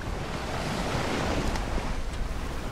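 Steady ocean surf rolls and washes continuously, a broad close roar of breaking waves with wind noise across the microphone and no voices.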